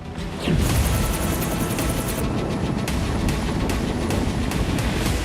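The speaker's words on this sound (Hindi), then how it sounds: "कुर्स्क में रात के अंधेरे में रूस के Ka-52 अटैक हेलीकॉप्टर्स ने मोर्चा संभाला हुआ है।" Russian Ka-52 attack helicopters at night near Kursk: a loud, heavy thudding rotor roar that kicks in abruptly after a brief lull and holds steady, dense and rumbling with rhythmic pulsing, no voices.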